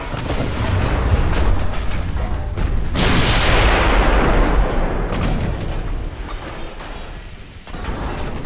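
Heavy 15-inch naval guns roar in a dreadnought-versus-modern-cruiser battle in Ultimate Admiral: Dreadnoughts, producing loud, sustained booming salvos that roll into one another, with a fresh blast around the middle and rumbling echoes fading toward the end.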